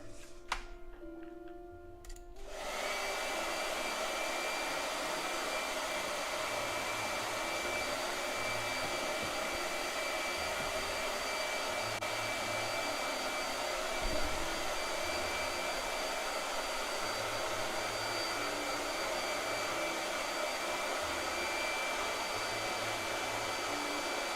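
A blow dryer switches on after a short quiet moment and runs with a steady, loud, unbroken whoosh and hum to the end.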